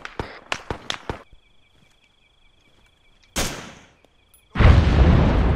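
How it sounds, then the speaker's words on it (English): Mortar fire in Arma 3 during a Vietnam mission: a string of sharp cracks, then a heavy booming blast and a louder, sustained rumbling explosion close by, with no talking. "stop with the fucking mortar"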